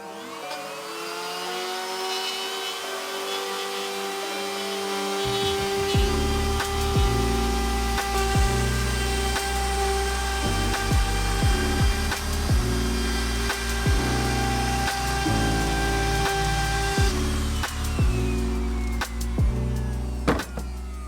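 A half-inch router cuts a window opening in a new OSB wall, starting after a quiet moment and then whining steadily and loudly for about twelve seconds with small pitch dips, before winding down.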